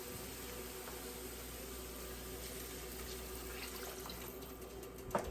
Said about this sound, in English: I'm going to fill this can one more time.